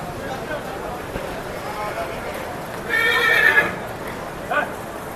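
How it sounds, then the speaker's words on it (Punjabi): A horse at the Nabha horse fair gives a short whinny partway through, surrounded by busy crowd chatter and fairground noise, with a second brief call near the end. "ਬਹੁਤ ਹੀ ਸੋਹਣਾ ਘੋੜਾ"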